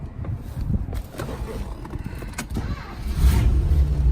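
A 1965 Imperial Crown convertible V8 cranks and catches, settling into a louder, steady low rumble toward the end, with some mechanical clatter before it fires.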